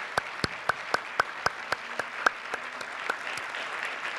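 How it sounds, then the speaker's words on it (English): Sparse, evenly spaced claps ring out from a small audience at an awards ceremony, about a dozen sharp hand claps that thin out and fade toward the end. "let's give them all a huge round of applause for all their efforts."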